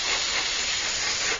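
Paint sprays from an airbrush or spray can onto a plastic 1/32 F-8 Crusader model kit, a close, steady hiss with no pauses for a little over a second.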